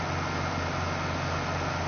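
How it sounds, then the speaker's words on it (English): An old tractor engine in a farming video game idles steadily, a low continuous hum with a faint hiss layered over it, with no talk heard. "Listen to that engine purr."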